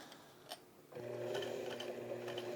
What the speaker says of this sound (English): This webbing isn't quite so easy to sew.